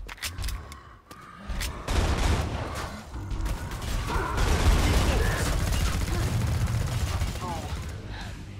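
Gunfire in the co-op shooter game Killing Floor 2, with sharp shots at first, then dense sustained automatic fire and blasts that stay loud and continuous, while voices talk over the action.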